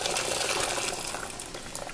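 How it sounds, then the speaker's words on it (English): Water boiling in a pot for making milk tea, a dense steady bubbling and hissing roil, fairly quiet and continuous with no talk. "Okay, so the water is boiling now."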